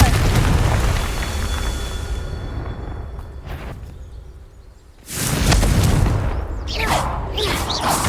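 Confringo fire spell blasts in Hogwarts Legacy: a rumbling magical rush gives way to a sudden loud, booming explosion that fills the space and crackles briefly before fading.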